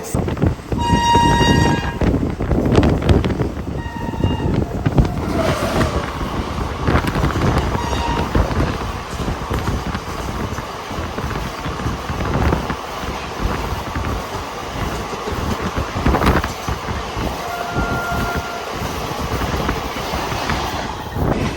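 A train hauled by a WDG 4G diesel locomotive rumbles past on an Indian rail line near Delhi, with a loud continuous roar of wheels and wind and brief horn toots early on.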